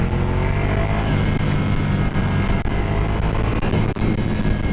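A Ducati Monster 797 motorcycle accelerating on the road, a loud continuous engine drone with steady wind rush, heard close up without talk.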